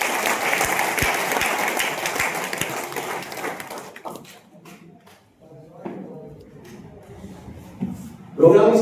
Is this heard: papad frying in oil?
no